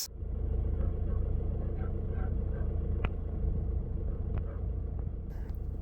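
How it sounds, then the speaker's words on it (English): A vehicle with a roof-rack LED light bar drives off trail in the Adelaide Hills, giving a steady, close low rumble of engine and tyres that runs unbroken for the whole stretch. "I was driving off trail here"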